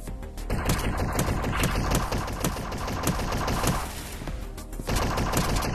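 Rapid automatic gunfire from the VR shooter Strike Rush on Meta Quest 3, loud sustained bursts of closely spaced shots with a brief lull near the middle before firing resumes.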